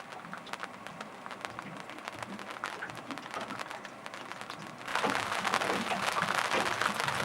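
Rain falling on a boat, a soft patter of drops that thickens into a denser, louder downpour partway through.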